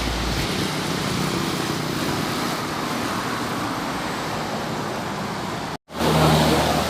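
A Jovita tourist bus passing on a road in Pekanbaru, producing a steady loud engine and tyre roar close by that cuts out briefly near the end and then returns, with no voices.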